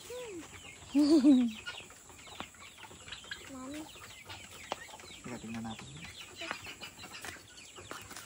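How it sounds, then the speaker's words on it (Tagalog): Chickens cluck and a rooster-like call rises briefly near the start, with scattered bird chatter and a short spoken phrase in the background. "Ayun pala, ang daming chicken."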